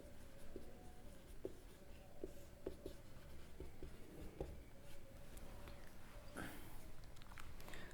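Chalk writes on a classroom blackboard in a steady run of soft scratches and taps, with sharper clicks as strokes begin, faint under a constant room hiss.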